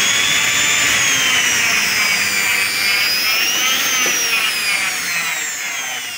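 A Silvercrest SKM 550 A1 food processor motor runs on its own with a loud, steady, high-pitched whine whose pitch wavers slightly and fades a little near the end.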